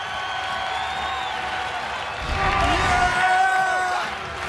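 Home crowd roaring at Hilton Coliseum during an Iowa State versus West Virginia men's basketball game, a steady mass of cheering that swells louder midway, with a commentator's voice riding over it.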